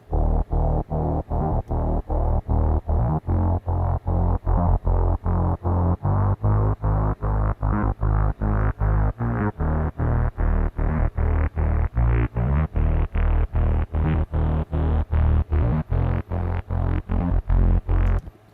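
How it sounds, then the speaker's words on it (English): Repetitive bass-heavy electronic pop track with steady pulsing notes, its low end opening from muffled to brighter and clearer as a filter sweeps upward over the loop; loud and continuous with no voices. "the bass gets from muffled to more clear. That's the effect we're going for"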